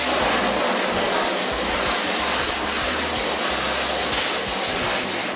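Water rinsing a screen printing screen, a steady broad rushing spray that runs without break, close and loud, with no talking.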